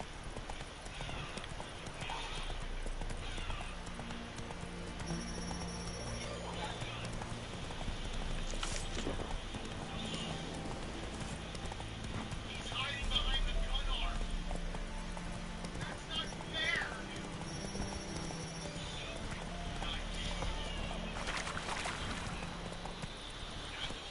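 Roach the horse galloping in The Witcher 3, a continuous run of hoofbeats with an occasional whinny, set against game music and ambience, moderately loud.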